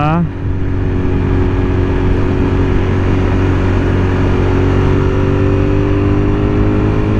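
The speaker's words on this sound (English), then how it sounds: "took it up to redline on that one. Bouncing it off the rev limiter." Motorcycle engine revved hard to redline and bouncing off the rev limiter on a mountain road ride, loud and close with a sustained droning roar and buzzy harmonics, wind noise throughout.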